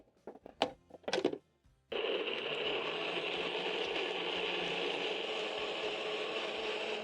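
Onions and tomatoes are pureed in a blender for jollof spaghetti sauce. A few quiet clicks come first, then the motor starts suddenly into a steady, even whirring drone that continues to the end.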